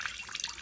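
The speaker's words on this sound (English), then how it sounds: "Look at all this water." Short burst of running water, like a tap filling or splashing into a basin, with bright trickling and dripping textures, fairly faint and close, with no talking.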